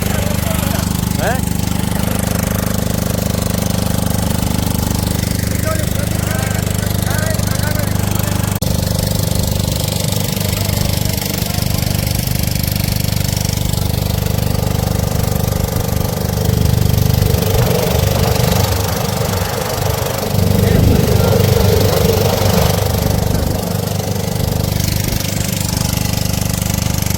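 A motor boat engine drones steadily on a river with strong current, a loud continuous mid-pitched chug that never lets up, with people talking over it.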